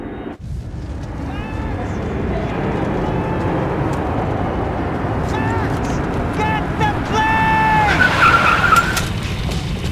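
Car tires squeal and skid over a steady roaring engine during a chase in the video game Max Payne 3, with shrill screeches rising near the end and voices talking through the action.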